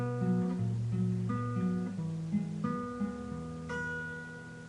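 An acoustic guitar with a capo picks the chord pattern of a song, plucking arpeggiated notes in a steady, moderately quiet rhythm with the strings left to ring between changes.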